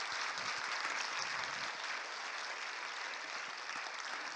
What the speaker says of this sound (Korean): 우리 7교회 리더들께 가족들 박수 보내주시기 바랍니다